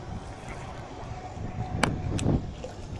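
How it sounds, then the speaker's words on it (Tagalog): Wind rushing across a microphone beside a boat on open water while fishing with a cast net, a steady low blustery roar with a couple of brief sharp knocks. "Medyo may hangin nga po pala ngayon"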